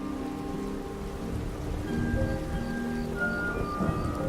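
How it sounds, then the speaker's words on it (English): Rain and a storm in the video game Skyrim: a constant hiss of falling rain with low rumbling beneath, and faint sustained musical tones drifting through. "The beginning of a shower and a storm,"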